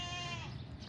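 A goat bleats close up at a Lahore livestock market, a single wavering, harmonic cry of about a second under a constant crowd hum.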